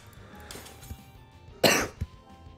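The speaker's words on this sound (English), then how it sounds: "My bad for the cough." A single sharp, loud cough bursts out close to the mic, with a smaller throat-clearing sound just after it, over a quiet background of faint game audio.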